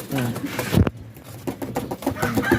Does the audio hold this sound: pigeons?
yes